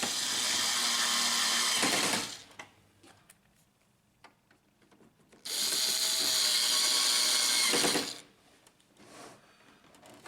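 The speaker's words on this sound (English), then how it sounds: "Insert the 2 screws." Screws driven in with a powered driver while a computer power supply is reinstalled, two loud whirring bursts of about two seconds each separated by quiet clicks and handling noise.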